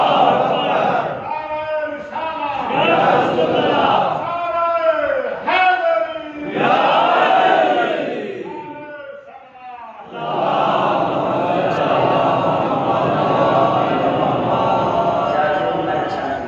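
At a Muharram majlis gathering in an imambargah, a leader's call is answered by a large crowd chanting a religious slogan in unison. The loud, rhythmic voices alternate with call phrases before a sustained mass response.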